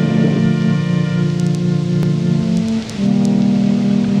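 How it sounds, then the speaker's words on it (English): Steady rain falls continuously, a dense close hiss of drops with a low sustained musical drone running beneath it and a few sharp ticks scattered through. "It's still raining. Why is it still raining?"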